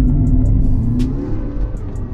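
A car's engine revs and pulls away from a stop, with a steady low rumble under brief, faint higher ticks, moderately loud and close, as if heard from inside the car.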